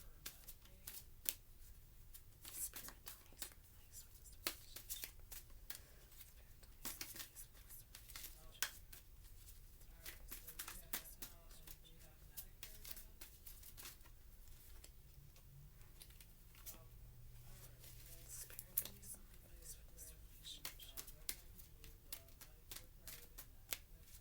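Tarot cards shuffled for a reading, producing a steady, faint, close patter of dense riffling clicks that keeps on throughout.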